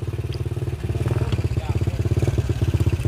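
A motorcycle engine revs up close at a shop, its throbbing pulses steady and slightly swelling in loudness, with people talking over it.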